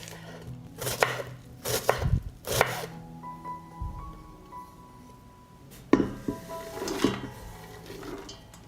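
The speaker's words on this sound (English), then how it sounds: "I will cut the celery, onions," A knife chopping celery and onions on a cutting board for vegetable soup, a few loud close chops at first, then a quieter gap with faint ringing tones, then another burst of cutting strokes.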